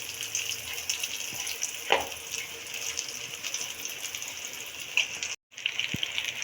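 Breaded cabbage kebabs sizzle and crackle in hot oil, a steady close frying hiss with a few sharp pops and a brief dropout near the end.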